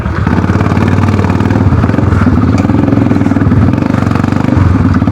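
Motorcycle engine running steadily throughout a ride, a loud, continuous close-up drone with rhythmic mechanical clatter and no voices.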